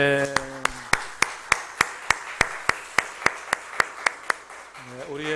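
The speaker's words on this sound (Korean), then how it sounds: "우리의 찬양을 기뻐 받아주시는 하나님 앞에 영광의 박수 드리겠습니다" Congregation in a church at a Sunday service clapping together in a steady, rhythmic beat of about sixteen even claps, following the end of a hymn, with a sung note and a voice at the start and end.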